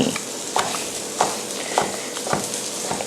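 Bacon drippings are scraped up in a pan for homemade gravy, with a spatula scraping in five or six rhythmic strokes over a low steady sizzle.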